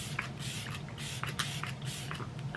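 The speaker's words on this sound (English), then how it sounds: "It's gonna go when I spray my set and spray combination." MAC Fix Plus setting spray misted onto a face during a makeup routine, heard as a few short, soft hissing spritzes close by against a quiet room, with no talking.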